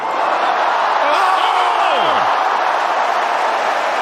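A large tennis crowd roars steadily and loudly throughout, a dense wash of cheering with a brief sliding tone rising above it.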